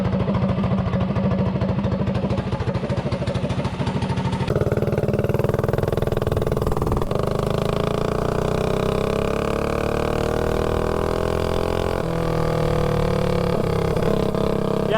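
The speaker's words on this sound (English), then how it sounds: "So now I'll go run this bike around and we'll see how it runs." A mini bike engine runs after carburetor tuning, revving continuously for about fifteen seconds with a steady buzzing drone and pitch shifts as the throttle changes, close and loud with no talk.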